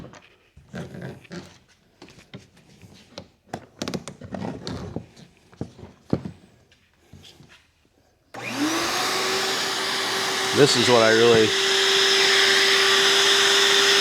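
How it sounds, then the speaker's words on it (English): Quiet clicks and shuffling give way to a loud vacuum motor on a VEVOR pocket hole jig clamp that switches on and runs steadily, its whine rising briefly before settling. "The vacuum will hold the board onto the jig."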